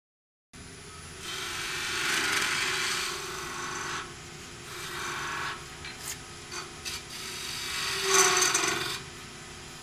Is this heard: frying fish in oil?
no